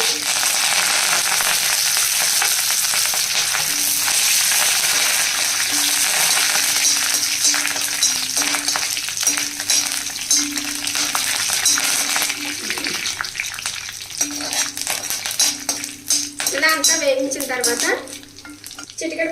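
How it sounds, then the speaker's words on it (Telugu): Curry leaves frying in a pan, a loud continuous sizzle and crackle of hot oil with bursts of stirring and scraping, growing busier and spattering toward the end. "ఇలా వేగిన తర్వాత కరివేపాకు కూడా వేసి"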